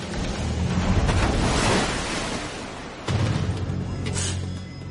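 Artificial tsunami waves surge through a 104-metre concrete wave tank holding 1,350,000 litres of water, a loud, continuous roaring wash with a sharp renewed surge partway through.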